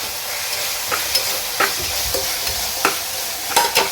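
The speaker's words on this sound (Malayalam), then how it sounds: "അപ്പം അത് പച്ചമണം പോവും വരെ നമുക്ക് നന്നായി ഇളക്കണം കേട്ടോ" Ginger-garlic paste frying with tomato and onion in a pan, a steady close sizzle punctuated by regular spoon scrapes and taps as it is stirred.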